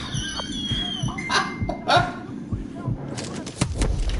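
A dog in Modern Warfare 2 Remastered barks and yelps in a few sharp bursts amid gunfire thumps, with someone talking over it.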